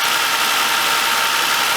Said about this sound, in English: That was the quietest start.